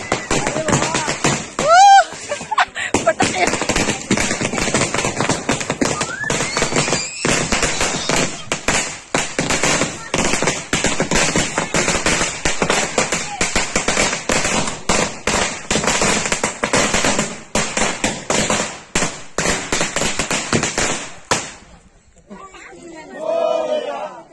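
Long strings of firecrackers burst nonstop in rapid, loud crackling volleys during a Ganpati immersion procession, with a crowd shouting underneath before the bursts stop near the end.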